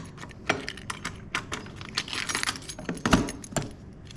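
Keys jangle and clink in quick, irregular bursts close by while being tried in the tour pack lock of a motorcycle, with no talking.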